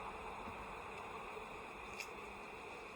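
Bees and a single wasp buzzing at an open hive during a fall inspection, a steady dense hum close by with no talk.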